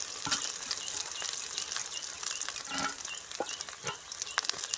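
Onion frying in hot oil with mustard seeds, chilli and cinnamon, a close continuous sizzle broken by sharp spatters and the scrape of a spoon moving the pan, with no talk.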